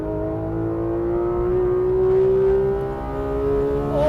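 A Porsche 991.2 GT3RS on the Nürburgring, heard from inside with its engine holding a steady, loud drone that rises slightly and then eases, close and continuous with no talking.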